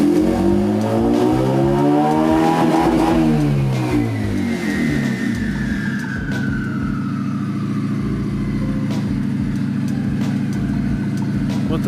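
A turbocharged Honda Civic with a D16Y8 engine revving hard, pitch sweeping up and down as it bounces off the rev limiter, then holding a steady high drone with a faint rising turbo whistle, loud and close throughout.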